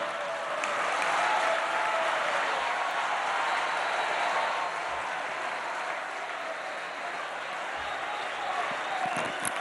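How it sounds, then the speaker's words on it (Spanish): Large crowd at an outdoor papal mass for Pope Francis in Bolivia applauding in a sustained, dense wash of clapping heard from a distance, steady throughout with no break. "Le vamos a brindar un fuerte aplauso al hermano Papa Francisco por habernos acompañado."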